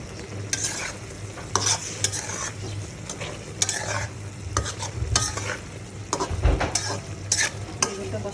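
Eggplant sizzles in a hot pan while a utensil stirs it, sharp scraping clicks recurring every second or so over a constant low frying hiss.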